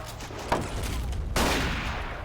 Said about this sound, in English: Love those explosions.